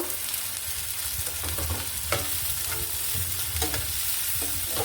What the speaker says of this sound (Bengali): এখন দিয়ে দিব আমি কাঁচামরিচ কুচি পেঁয়াজ কুচি একসাথে আমি কুচিয়ে রেখেছি এটাকে আমি দিয়ে দেবো এটাকে আমি সুন্দর করে একটু ভেজে নিব